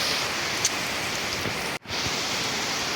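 Rain falls steadily at night with a light wind, a dense even hiss that holds throughout, broken once by a brief dip in the sound.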